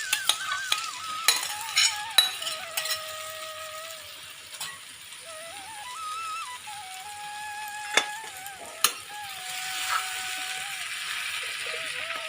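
Fried jackfruit pieces go into a pan for jackfruit-and-potato danla and are stirred, with scraping and a few sharp clinks of a spatula against the pan over a faint sizzle, steady and close throughout.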